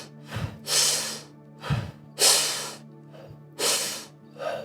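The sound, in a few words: pranayama fire breathing, quick full breaths through the mouth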